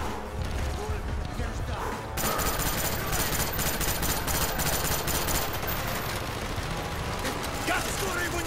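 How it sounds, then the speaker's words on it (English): Heavy gunfire in Call of Duty: Black Ops, rapid automatic bursts rattling almost nonstop after a short lead-in, loud and close, with voices shouting underneath. "It's a bit hard when I got people shooting."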